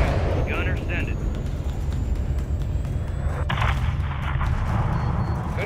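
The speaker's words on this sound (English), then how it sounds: "Have your man drop a missile on that hangar." A missile strike levelling a hangar in Call of Duty: Modern Warfare 3, a steady low rumble of aircraft noise with a sharp impact partway through, then broadband crackling debris, with brief radio voices early on.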